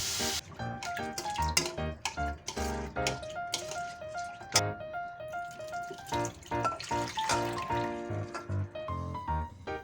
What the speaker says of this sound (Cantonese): 除咗紅茶包之外，其餘配料都用水洗一洗